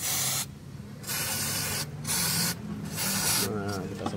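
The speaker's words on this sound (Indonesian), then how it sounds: "kita semprot-semprotin aja nih pakai WD" Three loud hissing bursts from a WD-40 aerosol can sprayed on a Suzuki Esteem car door, each about half a second to a second long, separated by brief pauses, close by.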